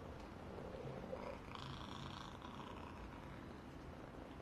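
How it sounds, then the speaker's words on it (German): Pet cats purr close by indoors, a soft, steady, low rumbling purr that runs unbroken, with no talking. "Und bei mir sind natürlich wie immer vor dem Bildschirm Katzen."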